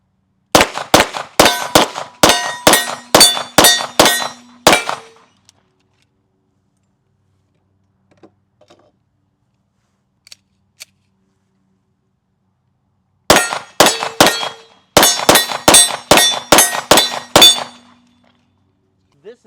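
Shots from a Sig P211-GTO pistol ring off steel targets, a rapid string of about eight sharp clanging hits, a long pause, then another fast string of around nine, loud and close.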